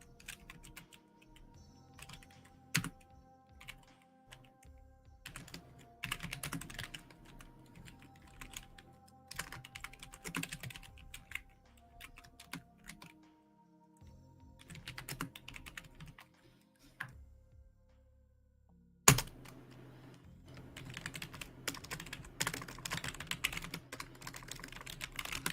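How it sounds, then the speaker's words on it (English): Close, quiet typing on a computer keyboard comes in irregular bursts of rapid key clicks with short pauses. One louder knock lands midway, and a steady faint hum sits underneath. "if you're getting the ASMR through my typing, I can't help that"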